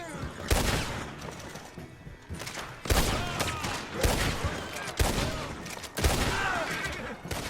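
A Lancaster lever-action rifle, modeled on the Winchester 1866, fires in the Red Dead Online video game. Loud, sharp shots ring out one after another at roughly one-second intervals, each with a short echoing tail.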